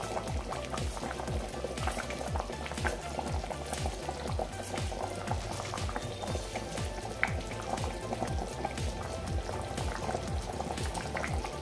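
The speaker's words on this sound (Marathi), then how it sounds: "आता आपण 5-10 मिनिटं फक्त याला एक उकळी काढून घेऊया." A pot of village-style crab curry boils steadily, with dense, continuous bubbling and popping close up, loud and even throughout, no voices.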